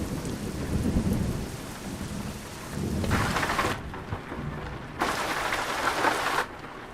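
Thunder and rain from the Euro Truck Simulator 2 video game, with a steady downpour under repeated loud rolling thunder that swells in two long bursts, close and enveloping, with no talk.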